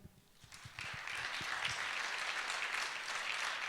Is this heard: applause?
yes